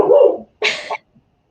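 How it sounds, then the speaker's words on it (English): A pet dog gives a single short bark indoors, heard loud and close right after a voice, then quiet. "I don't know what she could be barking at"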